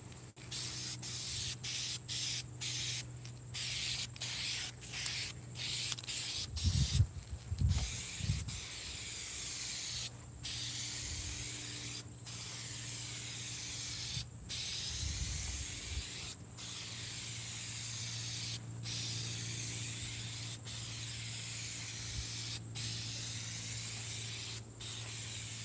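An aerosol spray paint can hisses in repeated short and long bursts while coating a truck, each spray separated by brief gaps, with a low hum and a few soft thumps underneath.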